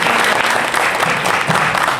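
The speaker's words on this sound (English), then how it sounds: "Let's give a big round of applause" Audience applause from a convention crowd at a Q&A session, a dense steady wash of many hands clapping throughout, loud and continuous with no voices on top.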